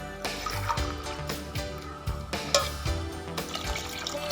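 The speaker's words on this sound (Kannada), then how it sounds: "ಈಗ 2 ಕಪ್ ಅಕ್ಕಿಗೆ ನಾನಿಲ್ಲಿ 4 ಕಪ್ ನೀರು ಹುಯ್ತಾ ಇದ್ದೀನಿ." Water poured into a pot of rice and vegetables for a vegetable pulao, a soft continuous splashing and gurgling fill, close and fairly quiet, with small drips and clinks.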